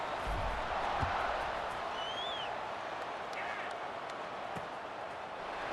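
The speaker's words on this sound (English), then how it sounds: "this crowd is buzzing after that last score." A stadium crowd buzzes after a score in the EA Sports College Football 26 video game, a steady, fairly faint roar with occasional thin whistles and shouts rising out of it.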